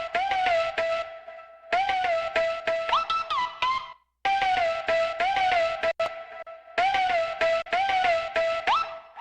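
A hard-hitting ATEEZ-style boy group beat played with reverb, giving a wider, deeper sound. A synth lead carries repeated phrases over stabbing rhythmic hits, broken by short pauses.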